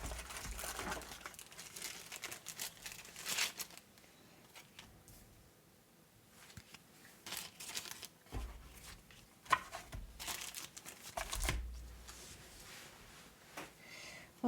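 Board game cards for Codenames Disney being pulled out and shuffled about, soft crinkling and rustling in several bursts with quiet gaps between, close by, no talk.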